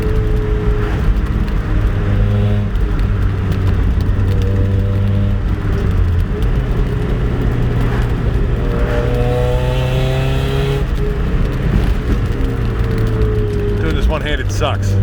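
A 1.8 Miata engine fitted with an eBay header, Borla dual exhaust and Magnaflow resonator drones loudly from inside the car with the windows open, its pitch climbing and dropping through gear changes as it accelerates.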